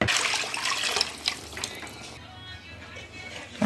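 A cornmeal and water mixture is poured into a pan of fried garlic and onion, giving a close burst of liquid splashing and sizzle that quickly fades into quieter bubbling.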